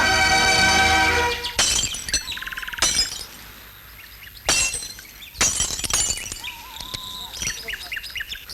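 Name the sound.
glass pane being smashed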